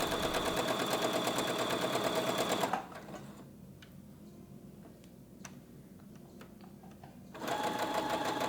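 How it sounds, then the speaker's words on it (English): A sewing machine runs a fast, even stitch on linen fabric for a summer house dress, loud and close, pausing for several seconds of faint ticks and clicks before starting up again, no talk. "I started off by sewing stay stitches along the neck hole and armholes"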